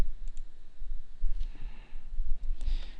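Mouse clicks while working in an Excel spreadsheet, a few sharp, close, quiet clicks spread across the moment over faint room hum.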